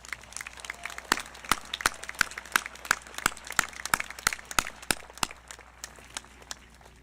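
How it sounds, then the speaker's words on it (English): A high school graduation audience applauds the parents with a dense, steady patter of many hands clapping, sharp individual claps standing out, with a faint murmur of voices beneath. "Can we please give our parents a big round of applause?"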